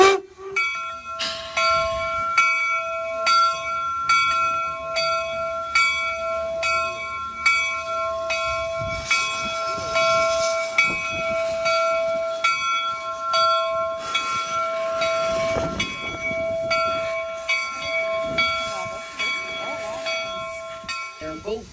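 A 60-ton replica 1869 steam locomotive, Jupiter, pulling away. Its bell rings steadily and loudly over rumbling, hissing rail noise, and voices of a crowd can be heard faintly beneath.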